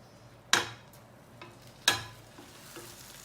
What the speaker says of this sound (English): Slide this back into the pan so that it can cook on the other side.